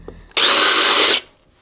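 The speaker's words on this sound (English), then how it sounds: "Wait, I don't know why this isn't drilling. Look, it just stops. It catches." A power drill screams at full speed for close to a second, drilling through material, then abruptly stops as the bit catches and stalls, with quiet room tone around it.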